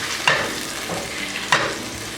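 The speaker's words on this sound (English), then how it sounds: "So I'm going to put the ground turkey in here" Ground turkey cooking and being broken up in a pan, a steady close sizzle with two sharp scraping knocks from the utensil chopping and stirring the meat.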